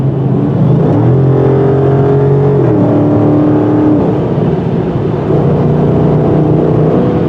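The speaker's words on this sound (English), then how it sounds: "just a bit of rumbling from that V8 exhaust to keep you company" A 2016/2017 Dodge Charger ScatPack's V8 exhaust drones steadily inside the cabin while cruising, a loud even rumble with shifting engine tones rising and falling, no voices.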